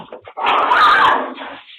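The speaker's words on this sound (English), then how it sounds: "putting herself in front of the aggressive dog" A single aggressive dog attacking during a neighborhood confrontation, one loud, harsh burst of growling and barking that lasts about a second, with short, fainter yelps on either side of it.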